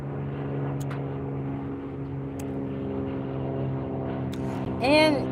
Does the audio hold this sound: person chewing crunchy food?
no